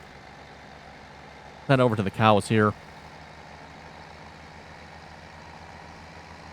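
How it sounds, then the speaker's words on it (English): A tractor engine runs in Farming Simulator 17, a steady low drone and hum that continues throughout, with someone briefly talking over it partway through. "let's grab the tractor here again"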